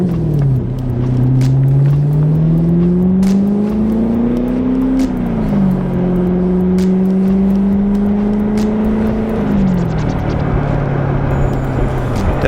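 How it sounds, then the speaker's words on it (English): A Chevrolet Corvette Grand Sport fitted with a Corsa aftermarket exhaust accelerates through the gears, its deep rumble rising in pitch between shifts, heard loud and steady from inside the cabin. "Definitely has a nice tone from the exhaust. That's an aftermarket exhaust on it, right?"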